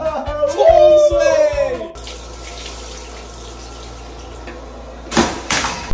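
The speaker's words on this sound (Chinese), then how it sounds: "冲水" A toilet that had been clogged and was just unclogged flushes with a steady rush of water lasting a few seconds, after brief talking at the start and a short knock near the end.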